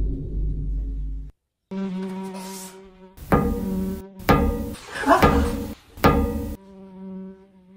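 Loud, harmonic buzzing of a big fly in a comedy skit, droning near the listener in bursts that swell and cut off with short gaps between them, with no talk over it.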